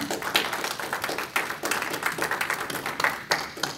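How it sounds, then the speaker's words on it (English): An audience applauding after a sermon in church, a steady patter of many hands clapping at moderate distance, with a few sharper bursts standing out. "They clapping because it's over."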